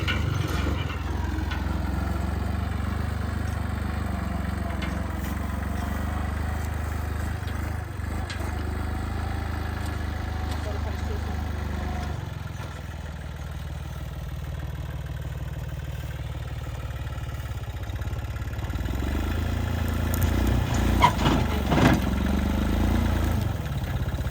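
A tractor engine runs at a steady mid-pitched chug with some clatter for a long stretch, nearby and fairly constant, its load shifting slightly partway through while people talk briefly now and then.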